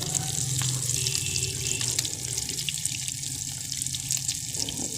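Chicken shami kabab patties fry in hot oil, giving a steady, close hiss and bubbling sizzle that runs unbroken throughout with no talking.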